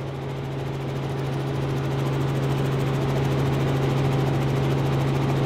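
A news helicopter circles close over a park in Fukuoka during a large rally, its rotor beating in a constant low throb that grows slightly louder, with no voices.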